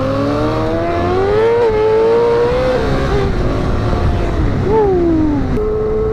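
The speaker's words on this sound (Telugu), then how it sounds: "సౌండ్ అయితే మాత్రం మామూలుగా రావట్లేదు, మస్తు వస్తుంది. R6 exhaust మార్పిచ్చిండ" A motorcycle fitted with a modified Yamaha R6 exhaust revs loudly and continuously close by. Its engine pitch climbs, dips and climbs again.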